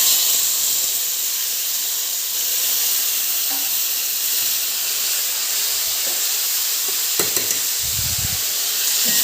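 Chopped tomatoes dropped into hot oil with mustard seeds for a curry, a constant loud sizzling hiss with a few stirring knocks and a brief burst of spattering near the end.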